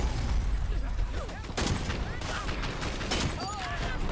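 Rapid video game gunfire crackles in dense bursts, with bright shots and whizzing effects layered through the clip under a player's talk.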